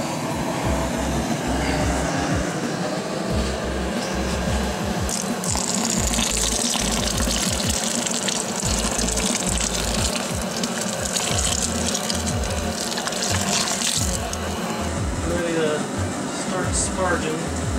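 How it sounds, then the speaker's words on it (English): Wort poured back over the grain bed during all-grain brewing of a weizenbock, a steady gushing splash of liquid with a low mechanical hum beneath and someone talking. "pour it back on top of our grain bed, and then we'll start our sparge."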